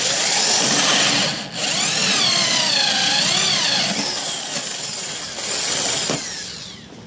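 Power drill boring into the fiberglass hull of a Bayliner boat for a fishfinder install, a loud whining motor that rises and wavers in pitch as the bit bites, then eases off near the end.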